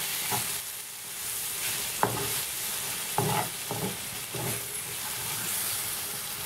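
Ketchup and mayonnaise stirred together in a frying pan, a steady close sizzle with several distinct scraping strokes of the utensil against the pan.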